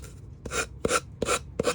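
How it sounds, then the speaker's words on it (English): A small finger sander rubs excess paint transfer off a thrifted piece in five short, rasping strokes, evenly spaced and close up. "take my little finger sander and sand off the excess"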